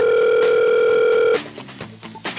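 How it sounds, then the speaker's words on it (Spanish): Steady telephone dial tone sounds loud and alone for over a second, then cuts off as a handset is handled and soft clicks and bumps follow. "usted agarra el teléfono y marca este número"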